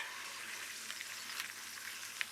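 Liquid sizzling in a hot pan of lemon risotto: a steady, bright frying hiss with small scattered crackles and pops, moderately near, with no talk.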